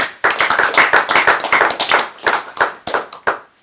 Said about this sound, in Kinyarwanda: muhaye amashyi ariko numva ari udushyi dukeya